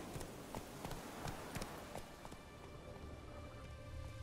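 Horse hooves clip-clopping at a gallop in a Witcher-style open-world video game on Xbox One, steady repeated thuds over ambient game sound with faint background noise, no talking.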